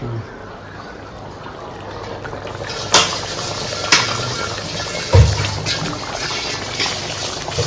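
A utensil is rinsed with water in a home kitchen while a paneer sabji is being cooked. Running, splashing water flows steadily, broken by a few sharp knocks of metal close by.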